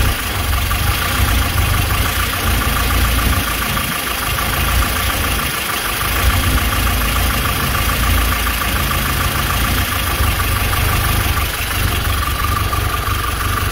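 Car engine idling steadily and close by, a continuous low rumble with a fine rough texture running throughout, no voices over it.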